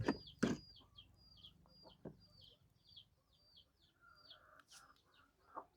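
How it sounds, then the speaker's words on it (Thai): Chickens cluck and squawk nearby with a loud burst at the start, while bright chirping birdsong repeats steadily in the background as ducks and chickens are rounded up into a pen. "จับเป็ดจับไก่ใส่คอก่อน"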